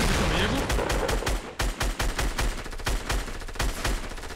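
Rapid bursts of gunfire in a Fortnite match, dense and loud with sharp repeated shots and a steady rattle of automatic fire from start to finish, and no talk over it.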